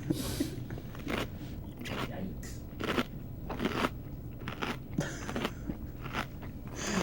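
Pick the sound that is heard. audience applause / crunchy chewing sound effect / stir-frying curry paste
crunchy chewing sound effect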